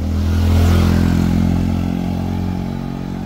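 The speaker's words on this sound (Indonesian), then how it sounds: "Awas ya, motor dari sana." A motorcycle drives past near a garden of potted plants in planter bags, its loud engine drone swelling over the first second, then slowly easing as it moves away.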